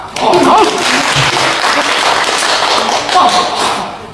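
Audience applause in a Deyun Society theatre during a solo crosstalk performance of a Three Kingdoms story, dense broadband clapping filling the whole stretch, strongest near the start and again toward the end.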